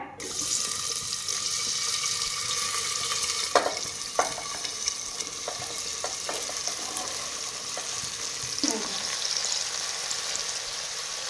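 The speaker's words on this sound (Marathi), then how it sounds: "आता आपल्या सगळ्या भाज्या तेलात टाकायच्या." Mixed vegetables for pav bhaji fry in oil with a continuous close hiss and sizzle, punctuated by occasional clinks and scrapes of a spoon stirring in the pan.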